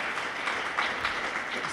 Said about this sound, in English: let's give the organizers a round of applause